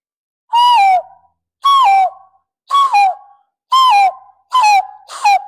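Six loud, clear whistled calls in a row, each a bright downward-sliding note imitating a hill myna, made by blowing through cupped hands, with short pauses between.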